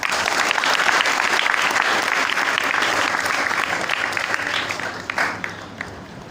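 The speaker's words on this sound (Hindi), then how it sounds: "ताली बजाओ।" A crowd claps steadily and loudly throughout at a Gurukul gathering of NSG commando trainees in Vrindavan, Mathura, with the dense, sustained applause tapering slightly near the end.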